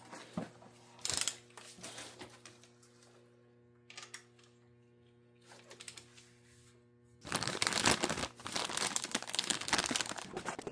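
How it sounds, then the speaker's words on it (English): A torque wrench tightens the high-pressure fuel pump nuts on a 2008 Lexus IS F. Quiet clicks and small metallic handling noises come first, then a louder burst of rapid ratcheting clicks close to the microphone. "now we'll be torquing down the nuts for the high pressure fuel pump at 22 foot-pounds"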